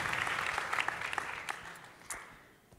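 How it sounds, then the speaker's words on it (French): Audience applause for fashion students at a HEAD 2022 graduate fashion show: dense, even clapping from a crowd, fairly close, that tapers off after a couple of seconds, with a few sharper individual claps near the end. "Je pense qu'on peut tous les applaudir"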